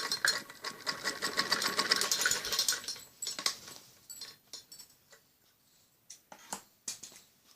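Sewing machine running long stitches over a folded buckram strip on a kameez neckline, a fast rapid rattle for about three seconds, then quieter scattered clicks and handling taps.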